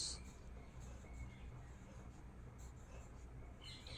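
Pen or pencil writing on a paper worksheet, with soft continuous scratching strokes close by and faint, no talking.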